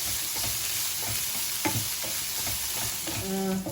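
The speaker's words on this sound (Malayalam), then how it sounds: "അപ്പോൾ ഇതിനെ ഞാൻ തുറന്നു വെച്ചും കൊണ്ട് ഒരു മീഡിയം ഫ്ലെയിമിൽ നന്നായിട്ട് ഇതിനൊന്ന് വഴറ്റിയെടുക്കുകയാണ്." Broccoli stir-frying in an open pan over a medium flame, a dense continuous sizzle with soft stirring clatter and a brief metallic clink near the end, no talking.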